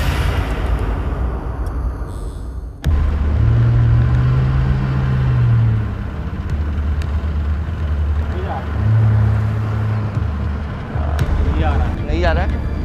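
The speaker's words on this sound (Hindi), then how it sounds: "तीसरी बार नाविक ने पूरी ताकत झोंक दी, इंजन का पूरा जोर लगा दिया।" Motorboat engine pushed to full throttle on the Narmada river, a loud continuous rumbling drone that rises in two surges after an abrupt start, with voices talking over it.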